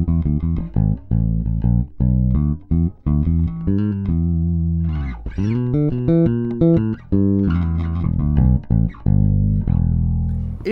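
A Mark James MJ 500 jazz bass in passive mode, full volume and tone, middle pickup, played alone: plucked notes and short riffs with a warm, round low tone and some quick percussive attacks.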